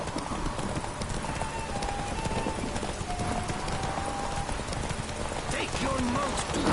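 Roach the horse gallops in The Witcher 3, hooves pounding in a fast continuous rhythm under a voice urging the mount on, with a short whinny toward the end.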